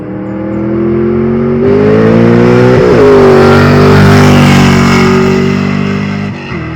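A car known as the Grey Ghost rolls past up close, its engine note swelling loudly as it nears and fading as it pulls away, with no voices over it.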